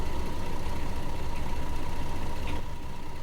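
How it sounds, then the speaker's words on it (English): A standard coach bus engine in Fernbus Simulator starts and settles into a steady, loud, low idling rumble with a constant mechanical drone, alone and without talk. "Start the engine"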